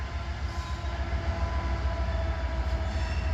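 A train shoving railcars past a derail rumbles heavily and continuously nearby, a dense low roar of wheels and engine with faint squeal overtones throughout.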